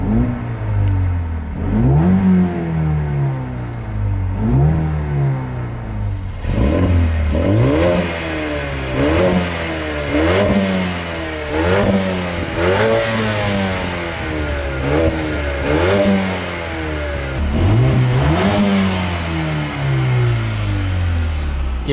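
A Mercedes A35 AMG engine is revved repeatedly in a loud, close sequence of rising and falling sweeps, each rev climbing then dropping back with a clattering edge, roughly every two to three seconds.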